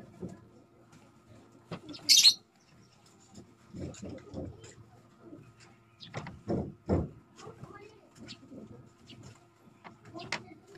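Banded racing pigeons held for inspection give soft coos and brief chirps, with scattered handling rustles and a sharp scrape, while someone talks quietly nearby.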